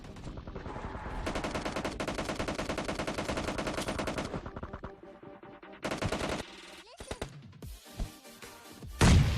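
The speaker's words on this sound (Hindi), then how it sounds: "राइट साइड जो स्क्वाड हाउस होता है उधर से बहुत खतरनाक वाली फायरिंग की आवाज़ आ रही थी" PUBG Mobile Lite gunfire: a long rapid automatic burst, then shorter bursts and scattered single shots with a few heavy thuds near the end.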